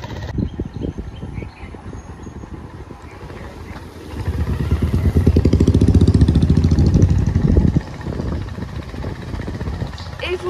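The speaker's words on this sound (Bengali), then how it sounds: "ভেবেছিলাম হাঁটতে যাব, কিন্তু ছোটো মার কাকায় অনেকটাই দূর যায়, ওই জন্য আজকে বাইক নিয়ে যাচ্ছে" A motorbike ridden along a road on a cool morning with three people aboard, its engine droning steadily and swelling louder in the middle while wind noise rushes past.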